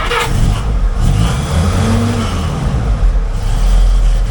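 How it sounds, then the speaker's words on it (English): A cold Willys engine, newly installed and suffering no oil pressure, revs hard on its first start in neutral with no choke, a loud steady roar with a brief surge near the end, heard up close and alone. "that was a cold rev if I've ever seen one"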